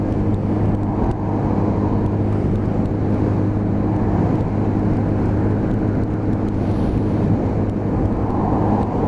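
A Lexmoto Assault 125 motorcycle rides past on the road, its engine a loud, steady drone blended with heavy wind rush throughout.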